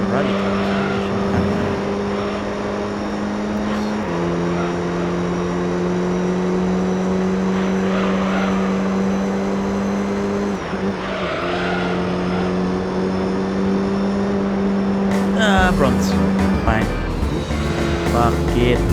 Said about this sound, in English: Ooh, we are driving rally cars.